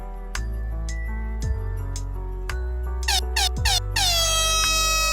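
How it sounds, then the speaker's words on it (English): A loud blaring Jamaican-style air horn sound effect sounds in a sequence of short blasts, with descending tones, rapid stuttering bursts and a final sweeping wail. "I think it's missing a little Jamaican air horn."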